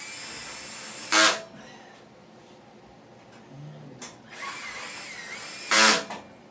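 A power drill drives long-neck screws into an IT lab server rack, heard as two short, loud whirring bursts separated by several seconds of quiet shuffling and faint handling noise.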